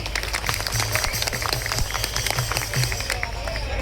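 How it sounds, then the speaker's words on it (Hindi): A crowd of government employees at a Jantar Mantar protest rally in Delhi claps loudly and steadily, a dense sustained burst of applause with a speaker's voice over it. "एक बार उन साथियों के लिए जोरदार अभिनंदन और ताली।"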